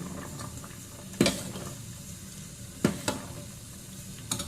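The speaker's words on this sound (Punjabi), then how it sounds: "ਪਹਿਲਾਂ ਮੈਂ ਦਾਲ ਨੂੰ ਤੜਕਾ ਲਗਾਤਾ ਤੜਕਾ ਲਗਾ ਕੇ ਫਿਰ ਮੈਂ ਦਲੀਆ ਬਣਨਾ ਰੱਖਦਾ" Dal tempering as a tadka in hot oil in a home kitchen, a steady low sizzle with three or four sharper bursts of crackle and spatter rising over it, fairly close and with no talk.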